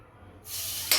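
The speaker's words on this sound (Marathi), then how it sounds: "तुपात मी थोडंसं फ्राय करणार आहे" Grated carrot dropping into hot ghee in a pan for carrot halwa, with a sudden loud sizzling hiss bursting in partway through and swelling briefly near the end.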